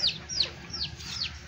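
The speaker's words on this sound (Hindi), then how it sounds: "ये देखिए, ये मुर्गियाँ देख ली वहाँ, देख ली वहाँ।" Chickens on a farm give a series of short, repeated clucks at a steady rhythm, fairly close and moderately loud, over a low background hum.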